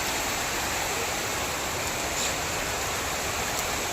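Torrential downpour falls suddenly and steadily, a loud, unbroken rushing hiss close by that fills the whole stretch with no voices.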